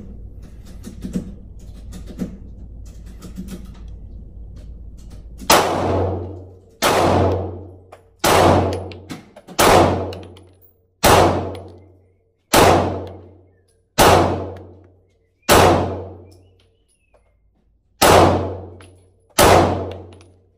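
A Stoeger STR-9 pistol fires at steel targets. Three faint taps open the sequence, then about ten loud, sharp shots ring out at a steady pace of roughly one every one to two seconds, each ending in a metallic clang.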